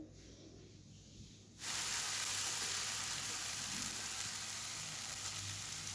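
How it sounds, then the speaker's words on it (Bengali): Onion with ginger-garlic paste frying in a pan, a steady broad sizzle that starts abruptly about a second and a half in and holds at an even level, close by with no voices. "এখন পেঁয়াজ আর রসুনের সঙ্গে আদা রসুন বাটা একটু ভেজে নেব"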